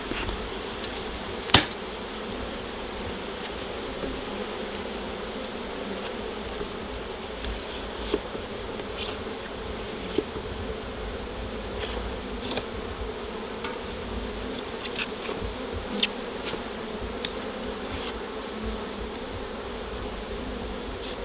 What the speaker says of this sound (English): Can the microphone hear the bees humming?